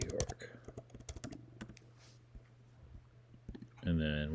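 Quick bursts of clicking keystrokes on a computer keyboard as a search term is typed, the taps scattered and close, with a brief voice rising at the end.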